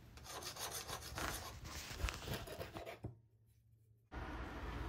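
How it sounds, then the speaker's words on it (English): A half round file deburrs the inside surface of a metal part for a Kawasaki Z1 Super Six top end, making a steady close rasping scrape for about three seconds. A short pause follows, then the rasping starts again. "using a half round file, clean up the inside surface and deburr"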